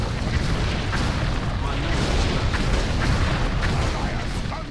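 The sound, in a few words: cannon fire in World of Warcraft Icecrown Citadel, video game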